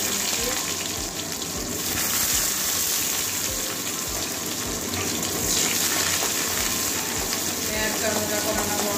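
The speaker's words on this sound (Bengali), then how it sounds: "পেঁয়াজটা ভাজা করে নেবো একটু।" Chopped onion fries in hot mustard oil in a wok, a dense, even sizzle with crackling, heard up close and continuous throughout.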